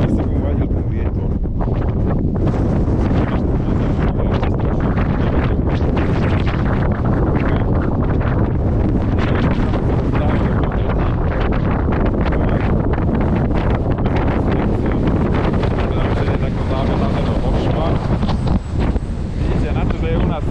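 Strong wind on a mountain with snow still lying about roars steadily across the microphone, a loud, unbroken buffeting rush that never lets up.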